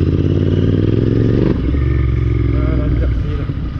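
A narrow motorcycle's engine hums loudly up close as it lane-splits through traffic, with rhythmic engine pulses and clattering, shifting in pitch midway.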